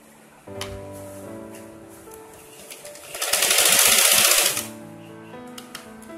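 A tailoring sewing machine stitches two joined one-inch pieces of tape for a pant drawstring, giving a short burst of fast mechanical whirring in the middle, flanked by quieter hum and faint background sounds.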